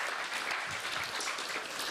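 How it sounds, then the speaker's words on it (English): Audience applause during a temple gathering at ISKCON Dallas, a steady dense wash of many hands clapping for the whole stretch, moderately loud with no talk over it. "Let's give them a big round of applause."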